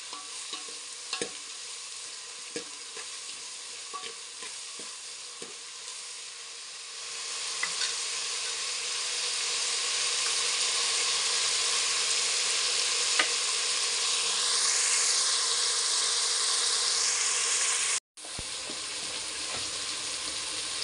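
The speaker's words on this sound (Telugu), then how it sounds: "ఇవి పూర్తిగా వేగకూడదండి, దోరగా వేగాలి." Ingredients for ugane, a breakfast dish, frying in a pan with a steady broadband sizzle that swells louder around the midpoint, with a few faint stirring clicks early on and a brief dropout near the end.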